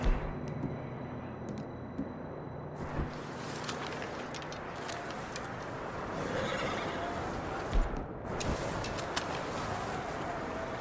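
A horse in Red Dead Redemption 2 gives a loud whinny near the start, then the scene continues with hoof clip-clops, rustling movement and scattered ambient noise, no talk.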